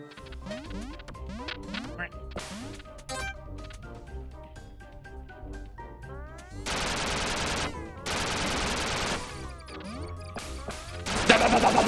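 Gunfire from the video game Duck Game: rapid bursts of sharp shots, bouncy electronic effects and crashing impacts over game music, with heavy automatic fire in the second half and a loud hit at the end.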